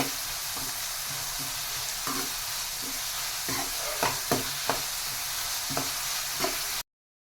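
Onions frying with salt in a pan, a steady close sizzle with occasional scraping stirs of a utensil, no talking.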